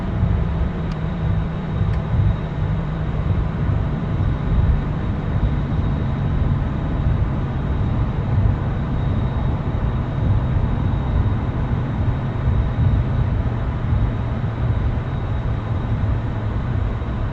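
F-14 jet rolling down a runway after landing in the DCS flight simulator, a steady, broad roar of engine and airframe noise held at an even level throughout, with no talking.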